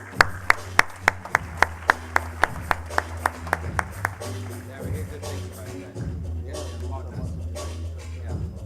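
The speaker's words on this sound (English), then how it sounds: "Round of applause, guys." At an ICT innovation awards ceremony in Kenya, a single pair of hands claps in steady, sharp beats, and then a broader round of applause from the audience follows, with murmuring and shuffling in the room.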